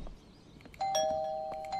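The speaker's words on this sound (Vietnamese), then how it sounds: "Ê, mình rung chuông được, rung chuông được." A doorbell rings once in Thief Simulator 2, a clear electronic two-tone chime that sustains and fades over quiet background, with no talking over it.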